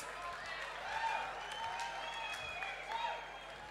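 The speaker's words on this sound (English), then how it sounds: "let's give a big hand of a round of applause for Jade on her first time ever promoting" Applause at a professional boxing event for a first-time promoter, with crowd clapping and cheers mixed with shouting voices at moderate distance.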